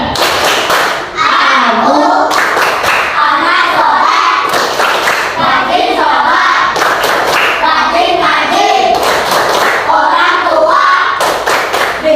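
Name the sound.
children clapping in a rhythmic clapping game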